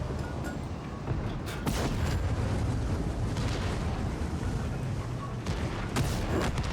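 Tank guns firing HE shells in the World of Tanks video game: a few sharp, booming shots land at irregular intervals over a constant low rumble of battle noise, fairly quiet overall.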